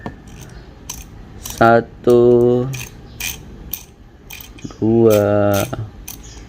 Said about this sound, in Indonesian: kita akan giling. 1G Presso J Plus bekerja.